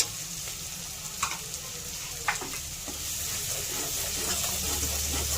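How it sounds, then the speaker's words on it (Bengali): Masala cooked with oil for a teasel gourd kalia sizzles steadily in a pan while a spoon scrapes and stirs it in a few distinct strokes, close and moderately loud, with no voices. "মশলা খুব সুন্দর কষানো হয়ে গেছে দেখুন মশলা থেকে তেল ছাড়তে শুরু হয়েছে"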